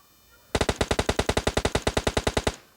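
Rapid automatic gunfire from PUBG Lite, a steady burst of about twenty evenly spaced loud shots lasting roughly two seconds, heard alone with no talking.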